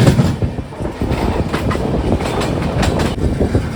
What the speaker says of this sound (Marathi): आता निघली ट्रेन